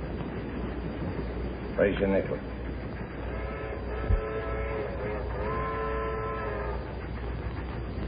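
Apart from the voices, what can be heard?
train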